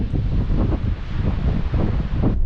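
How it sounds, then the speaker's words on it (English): Strong sea wind on a cliff top buffets the microphone with a loud, steady roar and rumbling gusts, with no voices. "it was very windy and we were right on the top of a cliff"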